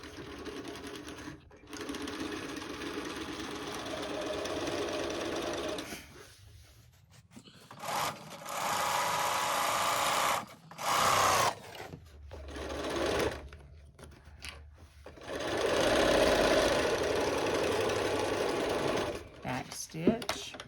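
A sewing machine runs in several long stitching bursts along a lunch bag seam from top to fold, with short pauses and handling noises between runs, heard up close.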